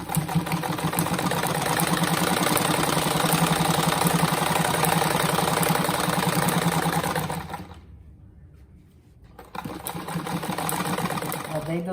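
An electric sewing machine stitches a patchwork rug made of fabric scraps, running steadily and loudly for about seven seconds, then stopping briefly before starting up again.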